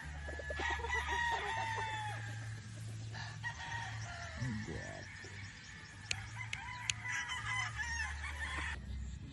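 A Boston White gamefowl rooster crows nearby, one long rising-and-falling call, with clucking and other fowl calling around it in an open yard.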